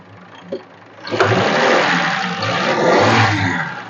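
A 1968 Ford F-75 truck engine idling smoothly: a low steady rumble that swells after a soft start and holds a continuous running drone close by.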